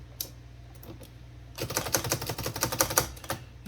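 A Smith Premier No 10, a restored early Korean-script typewriter, typed on, with a couple of isolated key strikes followed by a fast, dense run of loud mechanical clacks close by.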